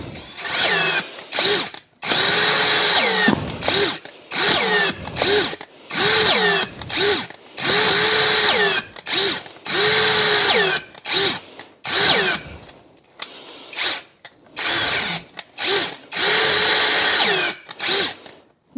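A power drill whirs in repeated bursts, loud and close, spinning up and stopping many times with short silences between runs, drilling during a Walbro WB37 carburetor swap on a Moster 185.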